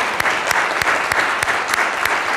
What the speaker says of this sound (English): Let's give Michael applause.